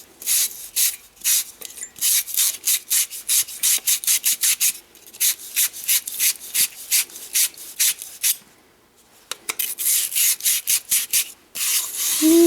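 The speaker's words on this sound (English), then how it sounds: "helps too with that little brush because it kind of scratches the copper a little bit" A small wire brush scratches copper pipe clean before soldering, quick rhythmic back-and-forth scrubbing strokes in bursts, close and crisp, with a short pause midway before the scrubbing resumes.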